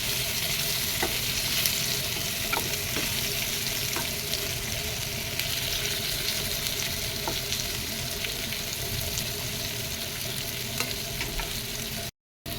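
Pieces of katla fish frying in hot oil in a pan, with a steady, dense sizzle that holds evenly throughout and occasional faint pops and clicks, no voices, ending abruptly.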